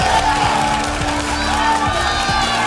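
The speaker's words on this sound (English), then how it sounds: "Look at that crowd." A large crowd in an esports arena at a League of Legends LCS match cheers and roars loudly and continuously, a dense wall of voices and whoops with a caster talking over it.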